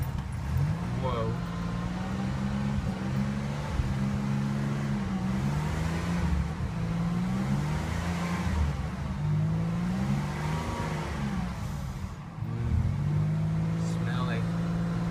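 A 1988 Buick LeSabre's 3800 V6 revs repeatedly after a Seafoam treatment, the engine rising and falling in several throttle blips, close and loud, with someone talking over it.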